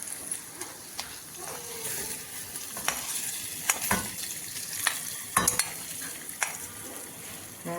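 Chopped chickpea greens (harbhara bhaji) tossed into a hot spiced tempering with chilli powder, giving a steady frying sizzle and hiss with stirring scrapes and occasional clinks of a spoon against the pan, close and moderately loud.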